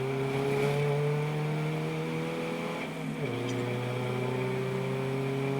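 Race cars on the track at Donington during a trackday race: a continuous loud engine drone, with pitch sliding downward as cars pass, heard from trackside.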